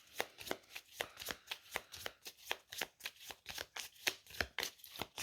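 A deck of game cards is riffled and shuffled in a fast, regular rhythm of sharp close flutters, about three per second, clear and alone with no voices.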